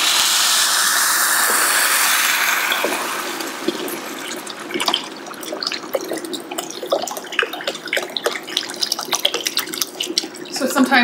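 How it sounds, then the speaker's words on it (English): Liquid poured all at once into a pan of risotto after the alcohol has gone in, a steady loud gushing pour for the first few seconds that fades into sizzling, bubbling and scattered clinks. "You're adding all the liquid in at the same time."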